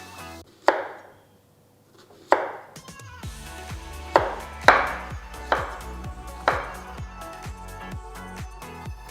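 A knife chops raw plantain against a cutting board, a few spaced strokes at first, then a quicker run of crisp, close thuds.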